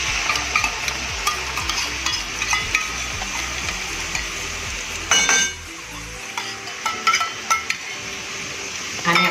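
Plain yogurt goes into masala frying in a pan for a dahi bhindi dish and gets stirred, a steady sizzle with scraping spoon strokes against the pot and a few sharp clinks near the end.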